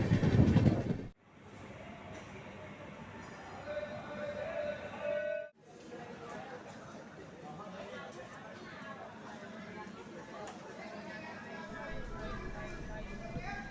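Inside a moving passenger train compartment, a steady rumble and faint rhythmic rail clatter fill the space while people talk in the background, with a brief loud burst at the start.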